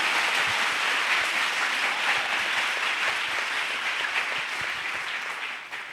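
Church congregation applauding together at a Pentecost service, a steady, dense clapping that fills the whole stretch, loud and continuous before easing slightly at the end.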